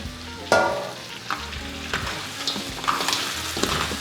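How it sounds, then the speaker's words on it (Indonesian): Crab sizzles in a hot pan with garlic as it is stirred, the crackling frying broken by several sharp scraping knocks of the utensil against the pan. "langsung diaduk-aduk biar meresap"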